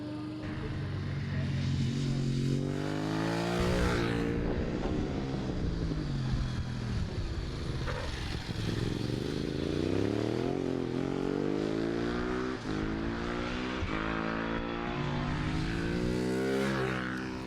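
A Honda motorcycle engine revs during bike testing, rising and falling loudly through several sweeping accelerations and decelerations over the whole span, close and dominant with no talk.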